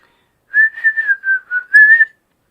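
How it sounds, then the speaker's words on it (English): A person whistles a short melodic tune, clear and close, in a string of connected sustained notes with slight pitch glides, lasting under two seconds over near silence. "Just whistle while you work."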